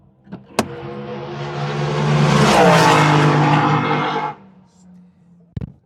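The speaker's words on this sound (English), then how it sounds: "our friend Pete Waters is going to come flying past in a moment in his dragster" Pete Waters' dragster roaring past at Santa Pod drag strip, a loud engine howl swelling to a peak and sweeping down in pitch as it passes, then cutting off into quiet with a couple of sharp clicks.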